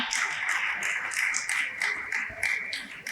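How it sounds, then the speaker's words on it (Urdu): A conference audience applauds, giving a dense, steady patter of many hands that stays loud for several seconds and fades slightly at the end. "وجاہت صاحب بہت ساری تالیوں میں پلیز اسٹیج پر تشریف لائیں۔"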